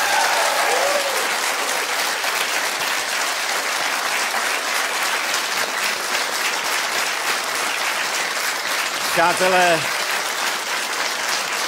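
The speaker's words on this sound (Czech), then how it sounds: "nerad přerušuju váš potlesk" A large TV talk show studio audience applauds steadily for several seconds in a dense, sustained roar of clapping, and a host's voice briefly cuts in over it near the end.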